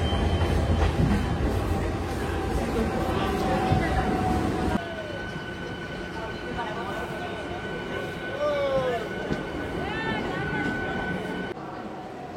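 A local train running on rails toward Digha, with steady rumbling wheel noise and clickety-clack, plus squeals from the wheels and rising tonal whines, heard close from inside and under talk.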